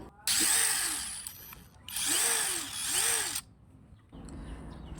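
A Masaru SCDI-155 cordless impact driver runs in reverse loosening mode, giving two long, loud whirring bursts with rising and falling motor pitch, then a softer, lower run after a short pause.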